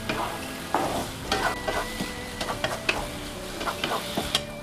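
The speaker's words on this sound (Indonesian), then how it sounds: "Kemudian kita aduk rata." A utensil scrapes and clatters against a pan in irregular strokes while vegetables are stirred and fried, with a steady sizzle underneath.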